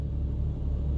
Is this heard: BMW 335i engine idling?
yes